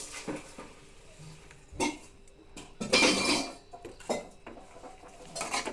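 Pasta with chopped coriander is stirred in a pan, with a few scattered metallic scrapes and clinks of utensil against cookware at close range and quiet pauses between them, without talk.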